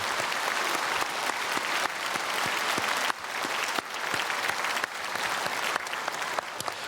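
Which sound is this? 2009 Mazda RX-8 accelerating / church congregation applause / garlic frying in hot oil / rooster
church congregation applause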